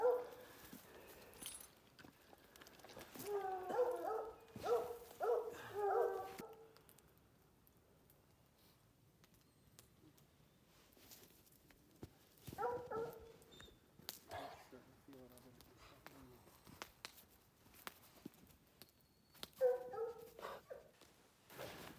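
Hunting dogs whimper and yip in short bursts after a mountain lion hunt, with brief bark-like sounds scattered through the clip, mixed with soft movement noises nearby.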